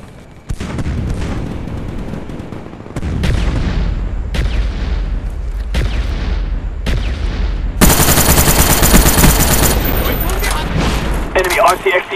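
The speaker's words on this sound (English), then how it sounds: "Friendly mortars inbound." A video game battle plays out with a string of heavy booms from a mortar strike, about every second, then dense rapid gunfire and blasts, loud and close, with voices talking under the fighting.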